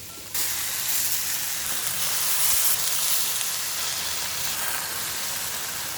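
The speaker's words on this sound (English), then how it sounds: "Once you have transferred all the meat into the wok, give them a good stir fry for a while." Mutton stir-fried in a wok with onions and spices gives a steady, loud broadband sizzle that starts abruptly and holds throughout, with faint scraping of stirring beneath.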